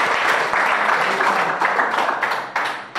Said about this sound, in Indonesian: Beri tepuk tangan untuk mereka yang sudah maju.